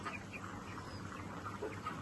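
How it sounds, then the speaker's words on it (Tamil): Chickens in a poultry shed with a cold, giving off faint, wheezy, rattling breaths and soft clucks against a steady background hum, with no talking. "கோழிக்கு சளி இருக்கிற மாதிரி சத்தம் கேட்குது இந்த குறை குறை குறை குறைன்னு சத்தம் கேட்குது"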